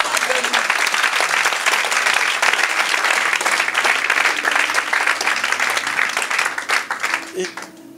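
A congregation at a church service applauds, a loud and sustained wash of clapping from many hands close by, with voices mixed in that fade toward the end.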